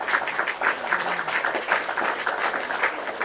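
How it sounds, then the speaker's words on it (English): Steady, dense applause from a crowd, continuous and fairly loud for a few seconds without a break. "Give a round of applause to Little Miss OD."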